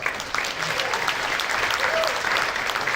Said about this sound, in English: How about a hand for those guys?